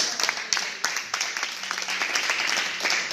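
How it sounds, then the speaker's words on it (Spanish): Worshippers at a Spanish-language church service give a round of applause to God, a fairly soft, continuous patter of many hands with a few sharper, louder claps standing out near the start. "Un fuerte aplauso a Dios"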